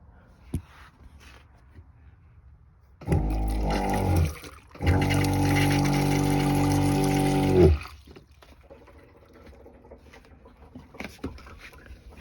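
A pressurized water pump in a Sprinter van touchless faucet setup runs in two close, loud bursts, a short hum followed by a longer steady drone with a strong low tone, then cuts off to quiet.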